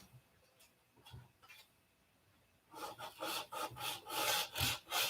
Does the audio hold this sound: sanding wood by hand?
yes